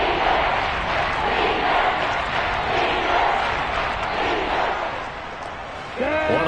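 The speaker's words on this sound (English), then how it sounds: "the crowd getting into it as we come up on a big 3rd down" A stadium crowd roars at an American football game ahead of a big third down, a dense, steady wall of cheering that dips slightly near the end before a voice cuts in.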